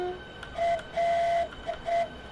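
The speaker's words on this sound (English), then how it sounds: "You have no idea how much I love the depot whistle." Depot whistle of a Southeastern high-speed train in Train Sim World 2, several short tonal toots in an uneven pattern, one longer than the rest, clear against a quiet background.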